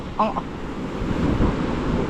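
Strong ocean surf rolls steadily at a small blue lagoon at low tide, a continuous broad wash of waves with wind noise, fairly loud, and a brief faint voice near the start.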